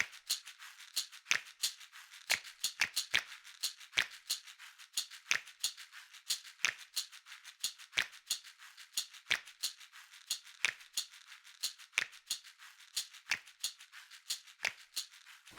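Pen or pencil scratching on paper while drawing a circle and a tangent line, a series of sharp, close, crisp strokes in an uneven rhythm, with no talking.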